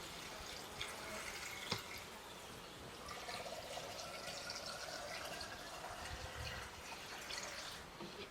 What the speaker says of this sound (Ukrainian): Заливаю до самого верху банку.